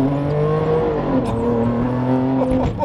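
A straight-piped Ferrari Enzo's V12 roars from inside the car, loud and close, a harsh sustained howl that rises and falls with throttle over a few seconds.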